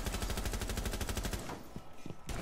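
Rapid automatic gunfire in the video game Rainbow Six Siege, a dense, even stream of shots for over a second, then a few isolated shots and a short final burst.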